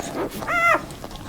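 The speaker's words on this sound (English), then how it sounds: "I don't think I would have guessed they were puppies from that." A puppy gives a short, high, tonal whine or yelp, squealing almost like a piglet, with soft snuffly noises around it.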